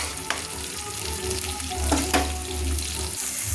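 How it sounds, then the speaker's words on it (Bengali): Tomato frying in hot oil in a home kitchen while it is stirred: a steady, close sizzle with soft scraping stir strokes and a few sharper clicks, no voices. "আমি তার জন্য তেলের সঙ্গে আমি টমেটোটা নেড়ে নিচ্ছি"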